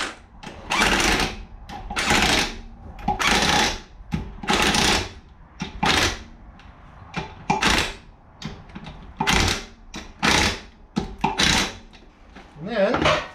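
An impact wrench fitted with a chrome socket removes the wheel from a Ford Galaxie in a series of loud, close rattling bursts, each lasting about a second, separated by short pauses, with a voice talking between them.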